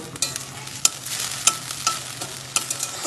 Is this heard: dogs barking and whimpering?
no